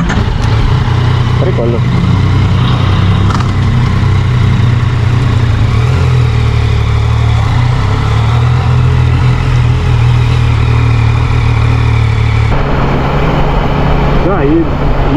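A Yamaha XSR900 motorcycle engine runs at a steady, loud idle close by, with a brief change near the end, while someone speaks a short remark over it.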